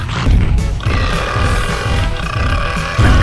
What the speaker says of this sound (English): every time you eat someone, you burp